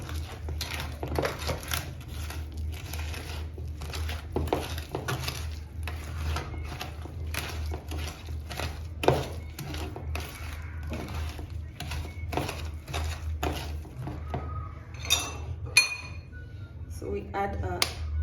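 Eggs are mixed one at a time into banana cake batter in a bowl, making a run of scraping, clinking strokes in an uneven rhythm, close and moderately loud, with a low hum underneath.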